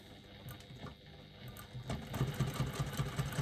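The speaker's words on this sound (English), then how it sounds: "now I'm going to top stitch on the side panel right the way down from the top to the bottom" A sewing machine top stitching along the side panel of a fabric wristlet, faint at first, then a quick rhythmic mechanical chatter building toward the end.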